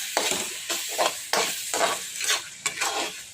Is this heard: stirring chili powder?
yes